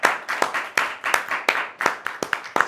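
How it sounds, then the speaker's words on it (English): Studio audience on a late-night comedy talk show claps in a burst of fairly sparse, uneven hand claps, close and crisp, with no talking over it. "Big round of applause for Hannah for joining us"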